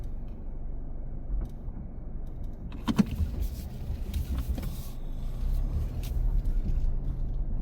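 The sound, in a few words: car being turned around on a gravel road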